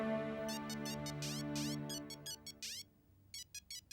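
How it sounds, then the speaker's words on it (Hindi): A mobile phone rings with a melodic electronic ringtone, tonal at first and then turning into repeated short bursts, fairly quiet. "मेरा ही फोन बज रहा है।"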